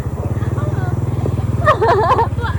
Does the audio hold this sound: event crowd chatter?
no